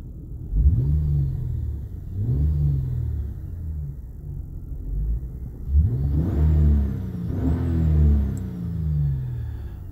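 A 3.2 liter Honda engine in an Acura CL-S with 6 speed manual revs up repeatedly in low, rumbling surges, each climbing in pitch and falling back, with a couple of stronger, longer pulls near the end.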